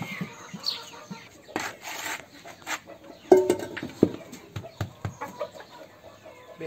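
Backyard chickens in a home poultry flock clucking and murmuring near the feed, with scattered short calls and a few louder squawks, close by, alone without talk.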